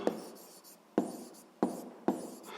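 Pen strokes on paper as an answer is written by hand, four distinct close scratching bursts spaced about half a second to a second apart, with no talking.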